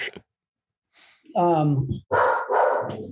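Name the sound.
dogs barking at UPS delivery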